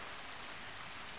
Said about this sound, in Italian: Questa pioggerellina.